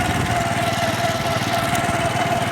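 Motorcycle engine droning steadily while being ridden, a continuous buzzing hum that stays loud and close without break and with no voices.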